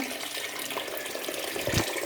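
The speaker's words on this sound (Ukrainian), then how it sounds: "помили, заливаємо другу воду." Water runs and splashes steadily into a 6.5-litre pot for chicken broth, a continuous pouring rush with a brief deeper gurgle near the end.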